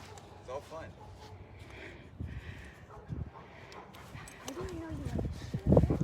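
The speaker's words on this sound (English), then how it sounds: "This is our highly skilled Pomeranian" A Pomeranian service dog at an outdoor field demonstration gives a few short yips and whimpers with panting, heard close by under steady chatter and voices of people around.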